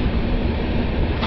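A double-decker passenger train runs along the rails, heard from inside a carriage as a loud, steady rumble and rattle with no talk.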